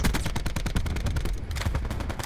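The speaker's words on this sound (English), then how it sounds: "Why are they shooting so fast?" Rapid automatic gunfire in Call of Duty Warzone on the Alcatraz map, a dense unbroken stream of loud, close shots that fills the whole stretch with no voices over it.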